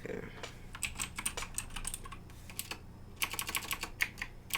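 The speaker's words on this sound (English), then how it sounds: "Here, I'll type it in the chat." Fingers tapping out a gamer tag on a computer keyboard during a live Black Ops 3 Zombies session, a quick irregular patter of close keystrokes in bursts, with a brief pause midway before a denser run of taps.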